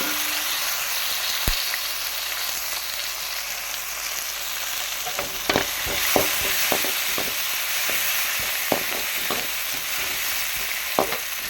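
Pumpkin and tomatoes sautéing in a pan give a constant loud sizzle; after a quiet start, a run of sharp spoon clatters and scrapes sounds close at hand.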